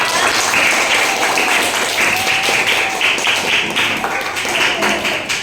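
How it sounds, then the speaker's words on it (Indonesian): A class claps for a group of students after their performance, a dense rattling spread of many small hands that rises and falls over several seconds, with children's voices mingling under it. "Beri tepuk tangan untuk kelompok Lala."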